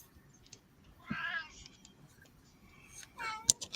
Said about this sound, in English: There goes the cat again.